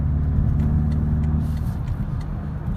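A 2017 BMW X5 M with its V8 engine drives along, producing a steady, loud low rumble of engine and road noise close by, with no talking.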